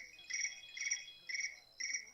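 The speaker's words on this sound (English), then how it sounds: "Your phone does a cricket sound?" A phone plays a cricket chirp sound effect, four bright trilling bursts in a quick, steady rhythm, clear and close against a quiet background.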